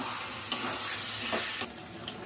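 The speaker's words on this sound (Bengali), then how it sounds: "সেদ্ধ করে রাখা মুগ কড়াইটা দিয়ে দেবো" Boiled mung beans fry and are stirred into a sizzling spice paste in a pan, a continuous hiss broken by a few clear scraping stirs.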